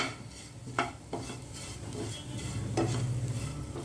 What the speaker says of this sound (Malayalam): ഉപ്പ് ഇട്ടിട്ട് നല്ലതുപോലെ എല്ലായിടത്തും ആവാൻ വേണ്ടി നല്ലതുപോലെ മിക്സ് ചെയ്ത് കൊടുക്കാം.